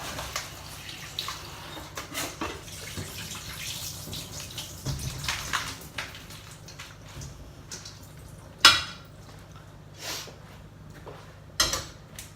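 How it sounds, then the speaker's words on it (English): Lettuce rinsed under a running kitchen tap, a steady soft water flow with occasional splashes and knocks of a bowl or dish, no voices. "And then running it under the water, making sure all of that's come out"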